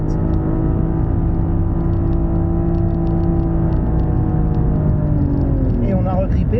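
A BMW M135i drifting on the Chambley track, its engine holding a steady loud drone with layered harmonics throughout, with a brief rising pitch sweep near the end.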